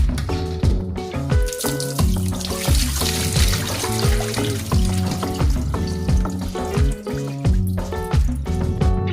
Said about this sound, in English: Then I'm going to pour this off.